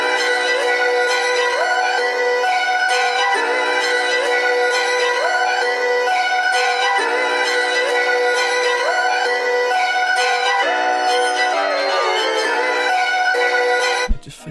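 A pitched-up, dark choir sample plays as a sliced pattern in FL Studio's Fruity Slicer for a beat. It forms a steady, dense stream of bright, stacked vocal tones with shifting notes and no low end, then cuts off abruptly at the end.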